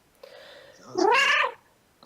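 A voice imitates a cat, giving a rising, drawn-out meow. It is close and moderately loud and comes alone after a quieter nasal hum.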